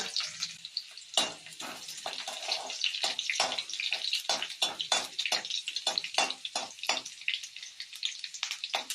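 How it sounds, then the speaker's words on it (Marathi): Mustard seeds and garlic frying in hot oil in a pan, a close, steady crackling sizzle with rapid popping bursts throughout. "तेल तापले, आता आपण मोहरी टाकू. लसूण टाकायचा."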